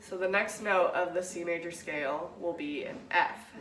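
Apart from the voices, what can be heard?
No everyday noise stands out behind the speech.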